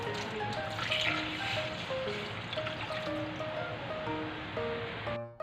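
Water pouring into a cooking pot for sinigang na munggo, a steady rushing splash running for several seconds before stopping abruptly, with faint background music tones.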